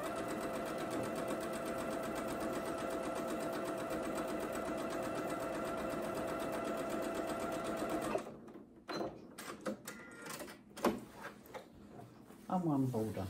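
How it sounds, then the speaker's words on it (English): A sewing machine stitches a border onto a charm pack quilt, running steadily and loudly for several seconds before stopping, followed by fabric handling and a voice talking. "So, we should sew that bit on."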